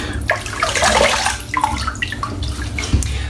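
Water runs and splashes from a tap while the face is wetted before a wet shave, a close, continuous gush with small splashy bursts.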